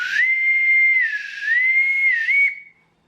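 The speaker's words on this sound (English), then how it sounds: "bosun whistle." A bosun whistle blown in one sustained shrill tone that rises and warbles, close and loud, then cuts off cleanly.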